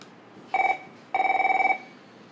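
A telephone rings twice during a call-in livestream, a short electronic trill followed by a longer burst of rapid pulses, fairly loud and clear over a quiet background.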